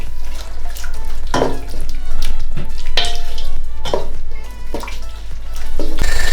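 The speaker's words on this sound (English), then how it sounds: "And give it a good stir." Onions, masala and beef being stirred in a pan for a south Indian beef curry, with a steady loud sizzle and repeated scraping strokes of the spoon. No one speaks.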